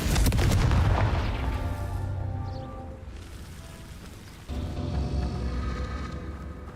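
A Confringo blasting spell exploding rocks in the video game Hogwarts Legacy, starting with a loud booming blast and rumbling debris that fade, then a second, softer thud and low rumble, with no talk.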